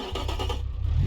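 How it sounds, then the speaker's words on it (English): A V6 engine in the Automation/BeamNG driving game revs briefly, a short rising mid-pitched growl that swells and then settles, heard alone. "Let's see what it sounds like. It's going to sound like any other V6."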